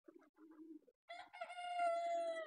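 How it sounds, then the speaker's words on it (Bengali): A large rooster crows in a farmyard with Sonali hens, a few soft clucks first, then one long, clear, drawn-out crow at moderate distance. "ডাকতেছে মোরগটা।"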